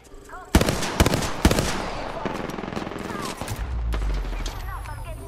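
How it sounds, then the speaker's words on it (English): Video game gunfire: several sharp loud shots followed by sustained rapid automatic fire and explosions in a chaotic firefight. "Enough, I'm getting shot at."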